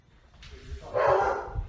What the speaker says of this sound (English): Oh, and here come the dogs.